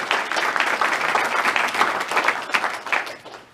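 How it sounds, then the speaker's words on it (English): Sustained applause from an audience at a fire safety awards ceremony, a dense steady patter of many hands clapping for several seconds before tapering off at the end, loud and near, with no speech over it. "So I'd just like us to give us a round of applause."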